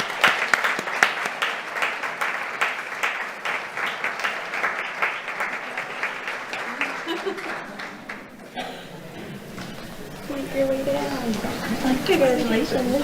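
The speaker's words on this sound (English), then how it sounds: "If you'll join me with a round of applause." Audience at a school board meeting applauds steadily for about eight seconds, the dense clapping then thinning as voices and talk rise over the fading applause.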